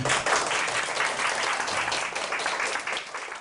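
A group of middle school students claps together in a steady, dense burst of applause that fills an orchestra practice room and holds for a few seconds, with no talking over it.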